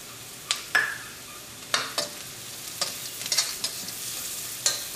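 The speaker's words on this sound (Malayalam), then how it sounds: "ഈ മഞ്ഞപ്പൊടിയുടെ കുത്തു പോണവരെ നമുക്കൊന്ന് മിക്സ് ചെയ്യാം" A spoon stirs turmeric powder into onions frying in a pan for cauliflower masala, soft scraping strokes and taps over a gentle sizzle, close and moderately quiet, no voices.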